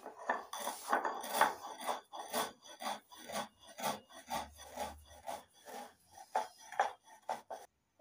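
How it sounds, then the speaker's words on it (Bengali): Citric acid crystals are ground on a stone slab with a stone pestle (shil-nora), giving a soft, close, rhythmic scraping and rubbing, stroke after stroke, faint and without any voices. "এবার 2 চামচ সাইট্রিক অ্যাসিড শিলনোড়ায় বেটে নিচ্ছি।"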